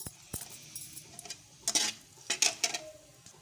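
Curry leaves hit hot oil, already used to fry onions, with a few sharp clicks followed by louder crackling spits and pops in irregular bursts, close by and without talk.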